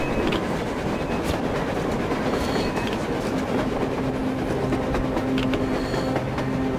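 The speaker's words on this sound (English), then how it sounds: "A train! A damn train on the surface!" Steady rumble and rattle of a train rolling across the surface in the Metro Exodus game, continuous and fairly loud throughout with clattering wheel noise and a faint squealing tone, no voices over it.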